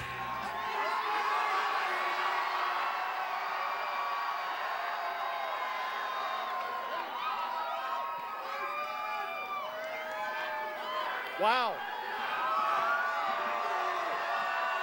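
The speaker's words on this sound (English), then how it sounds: "What a crowd." A large crowd at a 2012 Wisconsin governor recall election rally, cheering and roaring in a steady, dense wall of noise, with a brief whoop or shout rising above the din near the end.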